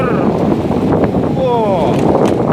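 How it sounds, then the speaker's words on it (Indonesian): Strong wind buffets the microphone on Merciur beach in Sanur, a steady loud roar with gusting noise throughout and brief faint voices nearby. "angin kencang, pantai merciur."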